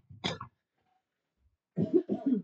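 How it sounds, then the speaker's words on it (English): One person gives a short cough, then after a pause clears their throat in a few rough bursts, close up in a quiet room. "if I'm coughing a lot or clearing my throat, my throat's dry"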